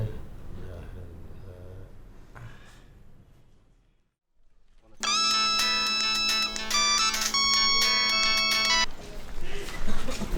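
A telephone ringtone plays loudly as a repeating electronic melody after a few seconds of quiet, following faint speech at the start.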